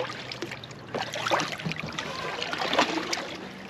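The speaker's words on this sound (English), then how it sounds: "It's hard kayaking on this narrow bit though." Kayak paddle strokes splash and drip on a narrow canal near Trevor Basin, soft irregular dips and trickles close by, fairly quiet and without talk.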